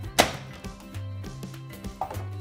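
The lid comes off a Kenwood MultiOne food processor after blending biscuits and butter: a sharp plastic click, then a couple of softer thunks, close up over a faint steady hum.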